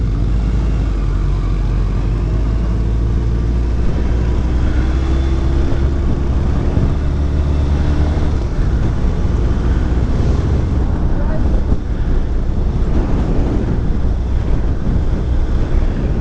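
Suzuki Hayabusa 25th anniversary sport motorcycle being ridden at a demo rally, heard as a continuous low engine drone buried under heavy wind rush on the microphone, steady and loud throughout.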